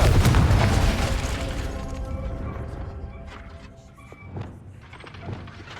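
A loud fiery explosion from the Confringo spell in the video game Hogwarts Legacy, a booming blast that rumbles and slowly fades over several seconds, followed by faint softer pops.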